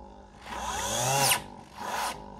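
A 775 electric motor running at low torque, whirring up in pitch, cutting off, then spinning up again briefly, close and loud with a rising whine.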